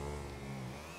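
A motorcycle engine in GTA 5 on the streets of Paris hums steadily and fairly loud at close range, its tone drifting slightly with no break over the brief moment.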